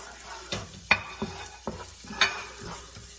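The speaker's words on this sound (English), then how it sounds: "So now what I'm going to do in this oil, add the onion." Onion stirred into hot oil in a pan for a masala, giving a steady close sizzle with several sharper scrapes of the spoon at intervals.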